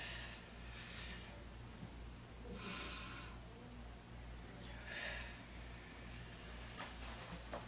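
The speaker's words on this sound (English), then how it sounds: "Deep breath. Out." A person takes slow, deep breaths in and out during a physical exam for arthritis pain. Several soft, breathy swishes rise and fall over a steady low hum.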